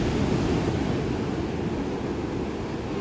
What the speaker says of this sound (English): then we're gonna check the waves